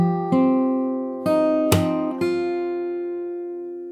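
Slow fingerstyle guitar takes on a song's riff: spaced bass notes and ringing chords, with one crisp percussive slap in the middle, close with no voices.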